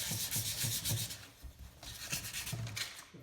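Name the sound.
sanding inside of lantern fount with 150 grit sandpaper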